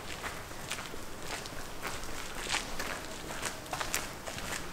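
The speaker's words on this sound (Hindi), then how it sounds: "सिर्फ हमारे चलने की आवाज़ आ रही है" Footsteps walk through a quiet basement, soft regular treads close by with light scuffs and a faint background hiss, no talking.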